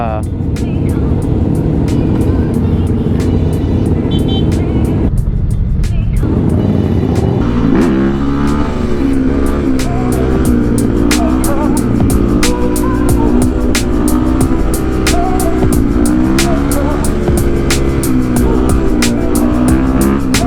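A 2016 Yamaha WR450 dirt bike revs and rides nearby, its engine droning and rising in pitch through several throttle changes over a long stretch, with people talking over it.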